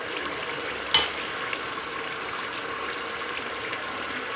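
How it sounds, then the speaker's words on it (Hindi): Beef pieces sautéed in oil for green bean masala sizzle softly and evenly, with one sharp clack from a utensil near the start and otherwise a constant low hiss. "अब इसको मैं 1-2 मिनट के लिए भूनूंगी"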